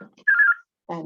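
A phone ringing indoors, one short steady electronic ring between bits of talk, with someone speaking just before and after.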